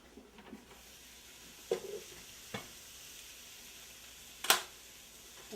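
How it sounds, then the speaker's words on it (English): Softened vegetables go into a lentil loaf mixture in a kitchen, heard as a few faint, scattered scrapes and clinks of stirring. A quiet background hum sits underneath, and the spot where the spoon or bowl is struck sharpest is the loudest. "So we're going to add the vegetables."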